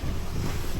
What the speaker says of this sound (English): I think there's a lot of wind coming through this channel here